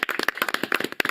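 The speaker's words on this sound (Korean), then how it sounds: "박수로 맞이합니다" Quick bursts of hand claps welcoming a guest onto a talk show, sharp uneven slaps from a small group close by, brief and without speech.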